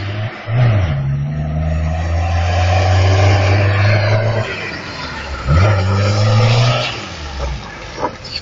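A Lada Niva VAZ 2121 drifts, its engine revving loudly in two long rising pulls with tire noise and skidding, close and alone.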